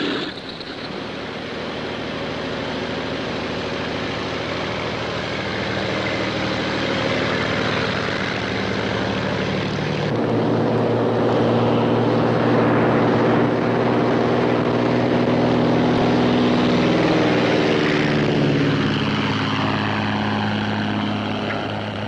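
A small propeller airplane drones steadily in flight, coming in to land, its engine note shifting and growing rougher partway through as it descends, loud and close throughout with no talk.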